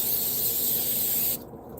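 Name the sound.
butter spray can spraying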